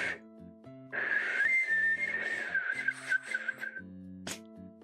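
A person attempting to whistle produces a wavering, breathy high tone that rises in and out over a few seconds, close and fairly loud, with airy blowing and faint background music.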